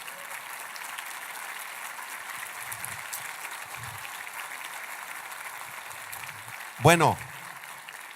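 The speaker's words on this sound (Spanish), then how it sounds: "Qué aplauso tan chiquito le dieron al Señor." A church congregation gives a small, thin round of applause, a soft steady patter of scattered claps in a large room, ending as a voice begins speaking.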